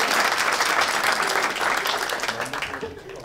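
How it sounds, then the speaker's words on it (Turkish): An audience on a Turkish talk show breaks into loud, dense applause that fills the clip and gradually tapers off toward the end. "kocaman bir alkış"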